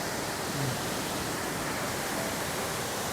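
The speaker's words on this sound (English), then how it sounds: "Look at the view, and the sound is very, very soothing." Steady rushing of a small backyard garden waterfall, continuous and fairly loud, a broad even splash with no voices over it.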